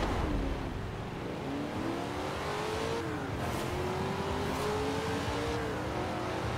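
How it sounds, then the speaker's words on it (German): Game car in Forza Horizon 4 launching at full throttle from a race start, a continuous loud engine drone rising and shifting in pitch through gears, with faint tire noise, no talk. "Deswegen werde ich jetzt auch mal einfach mal am Start Vollgas geben."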